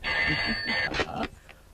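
An old telephone bell rings in an indoor scene from a 1989 Hindi action film, a bright, trilling burst close by that stops abruptly after about a second, followed by quieter room noise.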